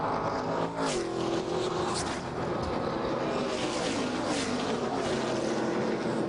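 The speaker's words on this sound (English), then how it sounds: "This car go by." A race car roars past at speed during the 2001 Pork "The Other White Meat" 400 stock car race, its loud engine note rising and then falling away over constant crowd and track noise.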